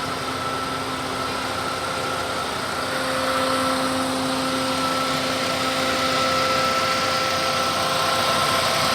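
A car engine idles smoothly and evenly at a steady hum, heard up close in the engine bay with no voices over it.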